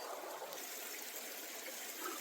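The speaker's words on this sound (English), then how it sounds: "The creek is now right here to my left, still on the bridge." Creek water flows steadily beneath a bridge, a continuous broadband trickle and rush at moderate level with no voices, the stream heard up close and unbroken throughout.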